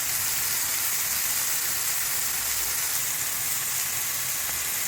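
Curry leaves and chopped tomatoes hit hot oil with browning onions in a pan, giving a steady, close crackling sizzle with a broad hiss throughout and no voices.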